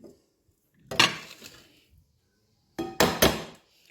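Chicken is stirred together with egg, onion, rosemary and chili in a bowl, producing close, sharp utensil clinks and knocks in two short clusters separated by near silence.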